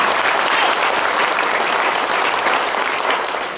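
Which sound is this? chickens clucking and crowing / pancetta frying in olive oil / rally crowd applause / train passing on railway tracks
rally crowd applause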